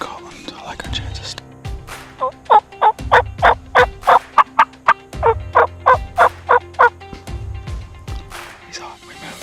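A wild turkey in Kentucky gobbles repeatedly at close range, loud, clear bursts in a steady run of a dozen or more calls, with soft whispering voices and hen-like calling underneath.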